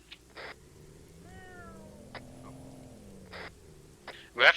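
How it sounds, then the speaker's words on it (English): A cat meows once in the video game Arma 3, during a mission to rescue a cat stuck on a fire truck ladder. The meow is soft and rises in pitch, set among faint clicks and a sharp louder knock at the end. "We have to rescue a cat stuck on the ladder."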